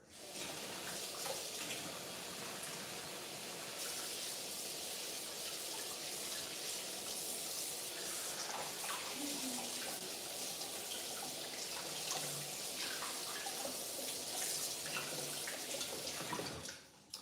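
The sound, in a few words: running kitchen tap while washing hands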